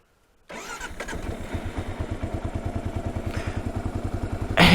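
A 2022 Kawasaki KLR650 motorcycle with its airbox snorkel removed cranks and fires up, then settles into a steady, close, pulsing idle with a rhythmic mechanical clatter.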